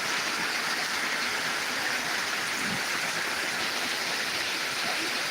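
Heavy downpour in Dinajpur hammers steadily in a thick, continuous wash of noise, near and loud, with a faint low thump midway and no speech.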